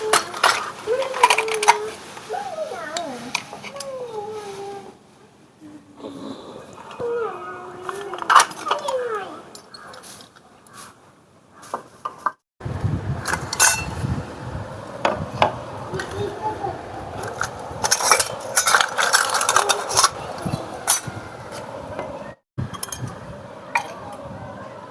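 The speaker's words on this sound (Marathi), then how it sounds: "चला तर आपण भांडी लावूया." Cooking pots and vessels being set out for village-style chapati egg roll cooking, with metallic clinks, clanks and clatter. Someone talks at first before the handling noise grows busier.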